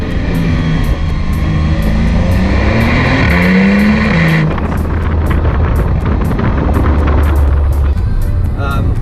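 A powerful Porsche 911 (991.1) sports car engine, a GT3 or Turbo S, revs hard and rises in pitch, then roars steadily with rapid ticking and whooshing turbo sounds, loud and close, with talking underneath.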